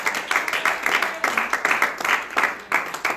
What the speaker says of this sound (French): On acclame pour ce Dieu